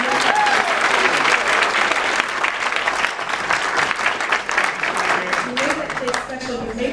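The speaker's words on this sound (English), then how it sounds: "So you really should give yourselves a round of applause because you made that possible." A large audience at a school district PTSA gala evening gives a sustained round of applause, loud and dense throughout, with some voices mixed into the clapping.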